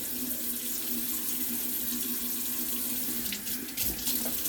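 Water runs steadily from a sink tap as hands are wetted under it, a constant close rush with splashy changes near the end as the hands move through the stream.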